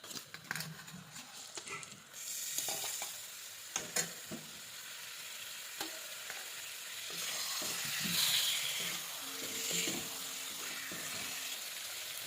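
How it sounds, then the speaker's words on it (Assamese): Chicken pieces frying with turmeric and salt in a pan, producing a soft hissing sizzle broken by scattered clinks and stirring scrapes. The frying swells slightly midway, and no one speaks over it. "মাংসখিনি অকণমান ভাজি ল'লোঁ"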